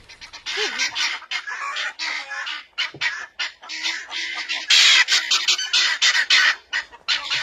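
Harsh, repetitive squawking calls come in rapid bursts from several birds nearby, loud and almost continuous with brief gaps.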